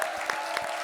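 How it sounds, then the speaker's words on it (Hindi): Audience applause at a comedy show, dense and steady clapping filling a brief moment at close range. "एक बार जोरदार तालियां"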